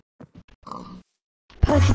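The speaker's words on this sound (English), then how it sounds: "Why is there a pig?" A Minecraft pig grunts in short, close oinks, followed by a louder burst of game noise at the end.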